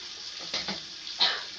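Scalding hot water runs from a tap while a baking area is being cleaned, giving a steady hiss with a few louder splashes and surges, close and without voices.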